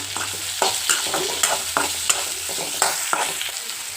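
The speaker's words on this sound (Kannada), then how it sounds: "ಇದನ್ನು ಕೂಡ ಈರುಳ್ಳಿ ಒಟ್ಟಿಗೆ ಚೆನ್ನಾಗಿ ಫ್ರೈ ಮಾಡೋಣ" A tomato fries with onions in a pan for a dhaba-style paneer dish, a constant close sizzle cut by regular scraping stirs about every half second.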